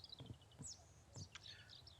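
Birds chirp in the misty outdoors of the Mist Survival video game, with several short, high tweets and calls scattered across two seconds over a low rumbling ambience.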